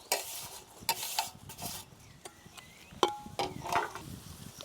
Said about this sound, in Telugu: పచ్చిమిరపకాయలు, కరివేపాకు కూడా ఇది ఈ విధంగా వేగాలండి